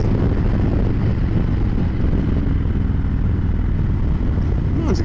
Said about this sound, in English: Mine's got a low rumble to it. I need a new exhaust on this bike.